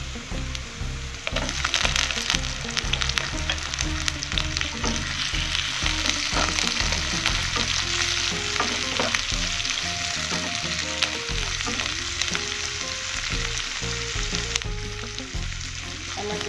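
Shrimp frying in a hot pan with green beans, a loud continuous sizzle with stirring clatter and bursts of crackle, accompanied by background music, no talking.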